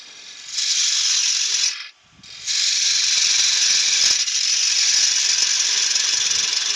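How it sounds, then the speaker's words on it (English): Bowl gouge cutting into a spinning wooden coin bowl on a lathe, a steady bright hiss of shaving wood that breaks off briefly mid-pass then resumes, close and loud with no talk. "we're going to just gently take the middle out and take it nice and steady, making sure your bowl gouge is at the correct height"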